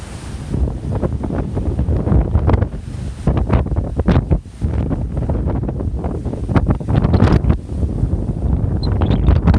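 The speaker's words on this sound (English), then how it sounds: "it's way too windy outside" Strong gusty wind batters the microphone in loud, uneven bursts, with rushing outdoor air and no talking.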